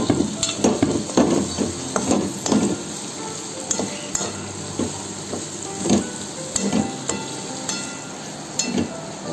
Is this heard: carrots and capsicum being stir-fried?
yes